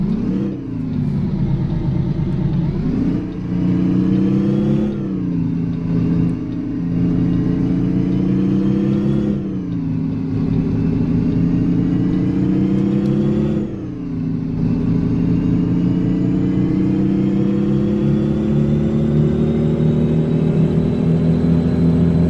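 A big-rig truck engine in American Truck Simulator revs at high RPM, a loud, continuous mid-pitched drone that climbs and dips through several gear-like swells while cruising on the highway.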